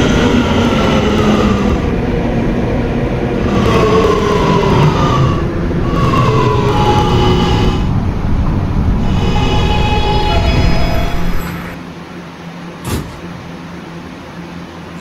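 R211A subway train running in the Roblox game, loud continuous rumble and rail hum with rising and falling motor tones, then dropping to a quieter hum as it slows, with a brief click near the end.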